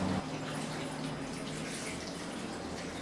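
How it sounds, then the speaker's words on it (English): Water pours steadily into a pot of chicken, broth and vegetables, a soft continuous splashing rush heard up close and fairly quiet. "I just want to add the chicken broth and a little bit of water."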